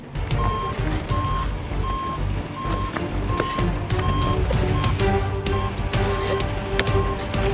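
A heavy concrete truck rumbles nearby while its reversing alarm beeps steadily in an even, repeating rhythm throughout.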